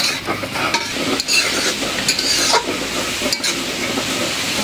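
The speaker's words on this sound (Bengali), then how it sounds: "একেবারে পেঁয়াজ ভাজা ভাজা করে নিলাম।" Onions frying for khichdi, a close, continuous sizzle with repeated scraping and stirring strokes of a spoon against the pan, no talking.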